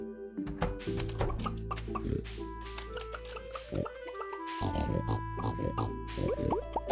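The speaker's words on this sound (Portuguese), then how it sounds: "Porco." A pig in the farming game Stardew Valley grunts and oinks in a string of short, squishy calls mixed with chirpy game sound effects and bouncy music, close and clear.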